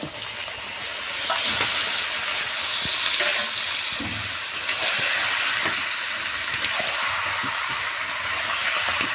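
Two and a half kilos of chicken meat hit a hot pot for a village-style handi chicken biryani, giving a loud, steady, close sizzle and hiss with faint stirring clatter and no voices.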